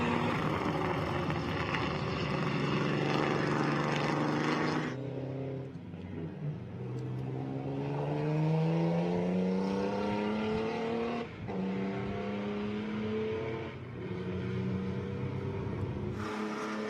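A 1950 Talbot T26 race car at a vintage motorsport reunion passes on track, its engine droning loudly with rising and falling revs through gear changes, swelling near and fading as it goes by, then a second pass.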